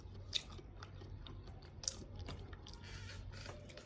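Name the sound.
biting crispy croissant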